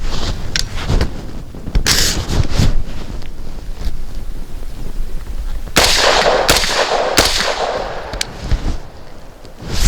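Shots from an ATI Omni Maxx polymer rifle crack out outdoors in several loud, sharp bursts spread across the stretch, over steady wind noise buffeting the microphone.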